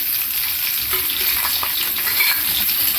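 Green chilies, dried chilies and onions fry in oil for upma, a steady close-up sizzle with faint scraping of a stirring spoon throughout.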